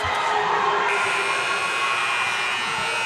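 Fans packed into a loud high school basketball gym cheer and roar in a steady, dense wash of crowd noise that holds at the same level throughout.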